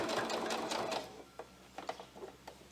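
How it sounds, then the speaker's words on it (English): A sewing machine stitching pixie wings onto a top, running in a fast steady burr for about a second, then stopping, with a few soft clicks and handling taps after. Close and moderately quiet. "we're going to carry on sewing, tuck that all the way in"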